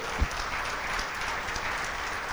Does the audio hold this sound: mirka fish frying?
no